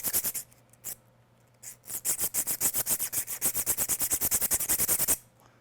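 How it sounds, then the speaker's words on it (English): A hand file rasps across the edges of a hard steel transmission bearing in a steady run of quick back-and-forth strokes, close and crisp, after a few scattered initial scrapes. "we might be able to try to file that a little bit and see if it goes"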